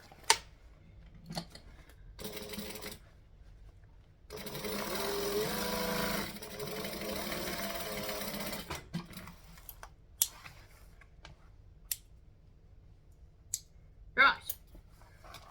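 A sewing machine runs in a few bursts, a short one and then a longer steady whir, stitching a triangle bag together, with scattered clicks and handling noises before and after.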